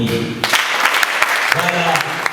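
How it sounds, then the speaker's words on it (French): Audience applause for a comedian at a training event, a dense wash of clapping filling the short span, with a voice speaking over it partway through. "nous allons applaudir pour lui"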